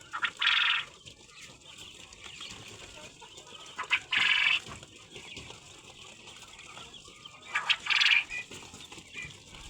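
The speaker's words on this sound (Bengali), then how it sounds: "আপনাদেরকে নিয়ে আসলাম আমার কোয়েল পাখির ফার্মে" Quail on a quail farm give three short, bright, loud calls spaced several seconds apart, over a low background murmur of the flock and faint rustling.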